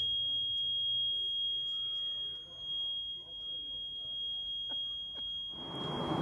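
A loud, steady high-pitched alarm tone rings continuously through an airport terminal, with faint chatter and footsteps of travelers underneath and a burst of rushing noise at the end.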